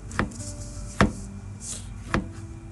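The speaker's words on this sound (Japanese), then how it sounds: "そしたらさズッキーニは薄切り" A knife slicing zucchini into thin pieces on a cutting board while packing a bento lunch, with three sharp, separate chops spaced about a second apart over a steady background hum.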